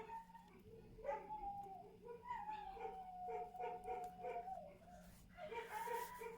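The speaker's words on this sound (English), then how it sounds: "my dogs are singing songs downstairs. You can probably hear all three of them." Three dogs howl together somewhere downstairs in a house, a faint, distant, wavering chorus of long drawn-out howls and yips that carries on throughout.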